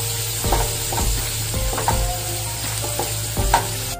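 Onions, ginger-garlic paste and green chillies sizzle steadily in a pan for a Kerala-style fish biryani, while a spoon stirs and scrapes through them in repeated close strokes.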